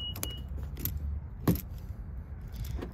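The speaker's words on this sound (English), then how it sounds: "Let's see if I got the keys here." Keys jangle a few times in short bursts beside a 2021 Nissan Titan pickup, fairly close and clear over a low steady rumble in the background.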